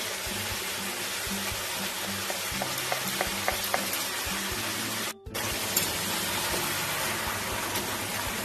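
Ground spice paste frying in hot oil for quick chicken kosha, a loud, continuous close sizzle with scraping stirs of a spoon against the pan and a brief drop-out midway.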